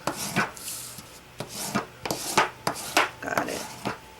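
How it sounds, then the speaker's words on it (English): A paper piece is burnished down onto a small soft-cover craft project, producing a series of close, short rubbing and scraping strokes in an uneven rhythm, about two per second, with no talking. "Let me burnish that down real good."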